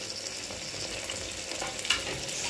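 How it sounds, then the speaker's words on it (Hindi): Chopped tomatoes and green chillies fry in a pan for spicy chicken pulao, giving a steady close sizzle and hiss with a brief stirring scrape near the end. "अच्छे से इसे भून लेंगे"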